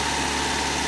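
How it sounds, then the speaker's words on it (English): A 1973 MGB GT engine idles steadily during its break-in run, with valves set to a wide gap and slightly rattly, giving a continuous, close, even hum. "it's fired right up. We're doing a 20-minute engine break-in"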